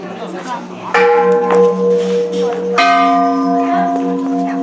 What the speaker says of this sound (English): As you can see, there's a bunch of bells here.